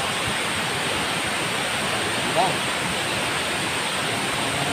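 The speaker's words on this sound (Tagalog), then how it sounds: "Ito yung pong Tagbilac River." The Tagbilac River rushes past as a steady, broad hiss of flowing water, close and constant, with a brief spoken word over it.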